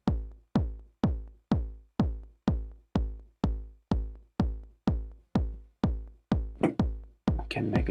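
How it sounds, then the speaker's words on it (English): A SR-909 drum machine bass drum hits repeatedly at a steady, roughly half-second pulse, each a loud booming thump with a decaying tail, with some extra noisy rattle creeping in over the last couple of hits. "So this is the bass drum."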